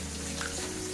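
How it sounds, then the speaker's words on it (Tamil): River fish pieces sizzle and fry in a pan, a steady, dense crackle that stays close and even throughout with no talk. "ஒரு 5-6 துண்டு மட்டும்தான் இப்போ நான் ஃப்ரை பண்ணுறேன்."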